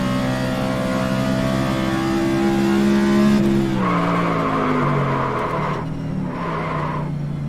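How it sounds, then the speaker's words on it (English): A car's engine drones steadily, then its tires screech loudly as the brakes lock up on a race-track straightaway, with two long skidding squeals in close succession. "when we're coming down the straightaway, I'll lock the brakes up"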